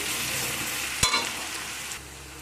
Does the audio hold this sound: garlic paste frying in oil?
yes